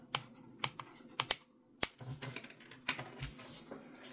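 Plastic canvas is cut carefully one square at a time, producing sharp, crisp snips in an irregular run of single and paired clicks with short pauses between, close and clear with no speech.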